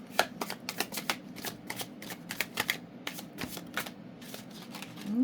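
Tarot cards are shuffled close by in quick riffling bursts, one after another at an even pace, with no talking over them.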